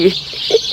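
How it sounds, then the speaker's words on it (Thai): A rooster calls during a bright weekend morning in a rural Isan village in northeast Thailand, giving two or three short, loud bursts close by. "เสียงไก่ขัน"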